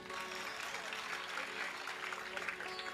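Audience applause at a Jain community gathering after a poem is recited on stage, a moderate, fairly even patter of many hands, somewhat distant and softer than close clapping, with faint voices underneath.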